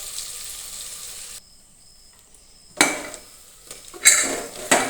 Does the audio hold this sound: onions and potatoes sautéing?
yes